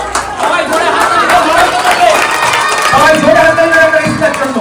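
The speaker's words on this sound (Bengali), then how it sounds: "সবাই ঋষিতার জন্য জোরে হাততালি দেবে।" A crowd at a school International Mother Language Day program claps and cheers together, fairly loud and sustained, with voices chattering through the noise.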